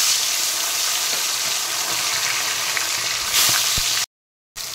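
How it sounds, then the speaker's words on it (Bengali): Tilapia fish fry in hot oil in a wok, giving a continuous close sizzle with small pops and crackles, then a brief dropout near the end. "মাছগুলো দিয়ে দিয়েছি। এই মাছগুলো লাল লাল করে ভেজে নেব।"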